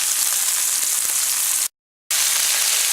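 Homemade Italian sausage patties fry in a pan with a steady, close, bright sizzle that drops out briefly to silence before resuming at the same level.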